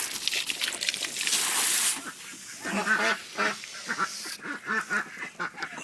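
Several ducks quack in quick, repeated bursts nearby, following a stretch of splashing water.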